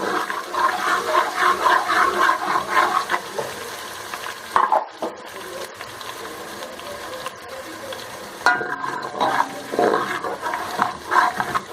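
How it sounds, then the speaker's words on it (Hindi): Crushed ginger and garlic fry in a pan with a steady, close sizzle and occasional stirring scrapes, continuous and fairly loud with no voices. "अब हम वो डाल देंगे और इसको अच्छी तरह से भून लेंगे जब तक इसमें से अच्छी सी खुशबू ना आने लगे"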